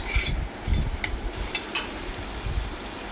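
Chicken with mandi masala and a stock cube sizzles in a pan as it is sautéed. A close, steady hiss runs throughout, with light scrapes and knocks of stirring and no voices.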